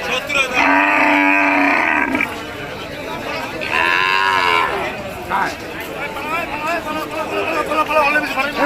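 Cows low loudly at a cattle market in Nilphamari, two long, close moos in the first half over a crowd's babble, with people chattering and calling out throughout.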